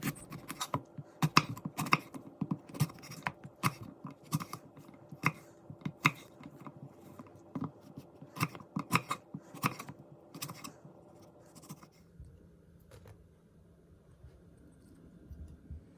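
A knife chops small eggplants on a cutting board in a home kitchen, a fast, irregular run of sharp, close knocks for about twelve seconds before the sound falls to a quiet hush.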